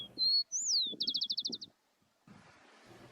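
A juvenile rufous-collared sparrow by a river gives a high whistled note, a rising slurred whistle, then a quick series of about nine rapid chirps, clear and close, with faint background rustle and a soft noisy patch afterward.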